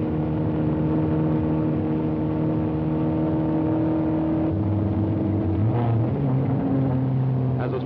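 A 1962 Mustang sports car engine whining and accelerating around the closed Daytona Beach road course, its pitch rising and shifting, with someone narrating over it.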